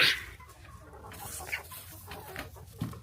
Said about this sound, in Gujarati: આ છે અમારો કુકડો